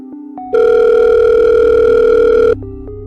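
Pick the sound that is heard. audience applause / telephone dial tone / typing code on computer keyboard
telephone dial tone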